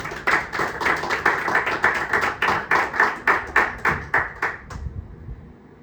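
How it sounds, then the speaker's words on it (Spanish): A church congregation claps in a steady rhythmic beat, close and fairly loud, about a dozen strong claps before it stops abruptly and leaves a quiet room tone. "Un aplauso fuerte a Jesucristo"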